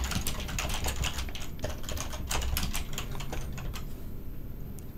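Fast typing on a computer keyboard during a letter-drop typing game fills the clip with close, dense key clicks in uneven bursts, steady throughout with no talk.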